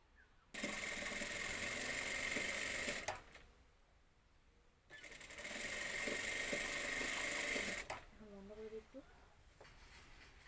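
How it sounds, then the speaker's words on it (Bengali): A sewing machine stitches lace onto a sari in two loud, steady runs of motorized whirring, each a few seconds long, separated by a pause; a voice speaks briefly near the end. "এই যে সেলাই করতেছি।"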